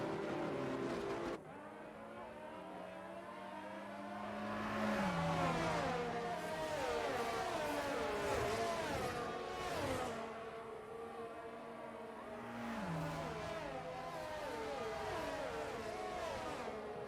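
Race cars in a video game night race at Abu Dhabi, engines revving and shifting continuously with rising and falling pitch, several cars heard close together, loud and steady throughout with no talk.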